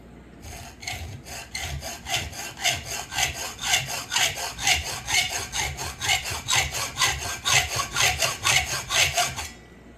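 Hand saw cutting through wood for a radio-controlled trailer deck, a steady back-and-forth rasp of strokes in a quick even rhythm, close and fairly loud, running alone for the whole stretch.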